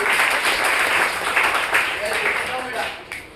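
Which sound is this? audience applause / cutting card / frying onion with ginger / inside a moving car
audience applause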